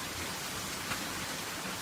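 Steady rain falls as an even, continuous hiss, soft and diffuse, with no breaks and no voices.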